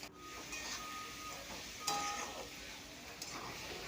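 Chopped onion and tomato are sautéed in a pan for misal, giving a soft, continuous sizzle with occasional spatula scrapes and light clinks, fairly quiet throughout.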